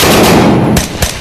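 Gunfire in the VR shooter Tactical Assault VR: a dense burst of loud, close shots fills the first part, followed by two sharper single reports, with no talking.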